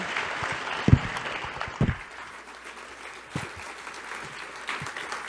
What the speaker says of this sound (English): Another round of applause for the congressman, the senator, and Kellyanne.